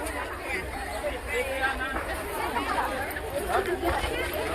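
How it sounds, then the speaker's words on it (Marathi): Dense crowd chatter fills a busy Diwali street market in Talasari, many overlapping voices forming a steady, close babble with a few louder voices rising out of it. "भरपूर गर्दी आहे"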